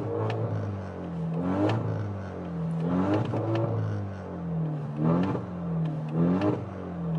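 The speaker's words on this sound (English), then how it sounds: "So I'll still give you some revs and so you could hear the car from inside, how loud the car is." A catless, straight-piped Alfa Romeo Giulia engine revs repeatedly as heard from inside the car, four or five booming blips rising and falling in pitch, with a muffled, resonant cabin tone.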